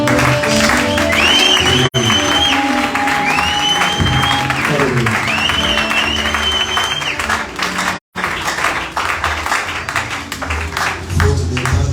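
A church congregation claps and cheers loudly, a continuous dense wash of applause and crowd noise with sung or shouted voices sliding over it, loud throughout and broken by two brief dropouts.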